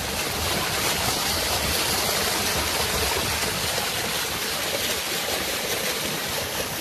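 Water gushes forcefully from pump delivery pipes, a loud, constant rushing roar close by that never lets up, with no one talking.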